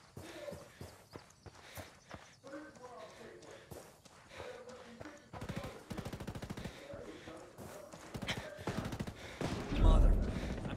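Rapid bursts of automatic gunfire crackle through a tense firefight in Ghost Recon Wildlands, layered under radio-style voice chatter, with a louder heavy burst near the end.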